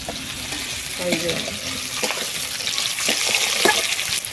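Drumstick pieces (sajne danta) fry in hot oil in a pan, giving a steady close sizzle with a few soft stirring scrapes and knocks, and no voices.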